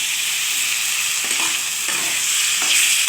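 Spices sautéing with a little water in a pan, a loud constant hiss of frying broken by a few soft stirring scrapes.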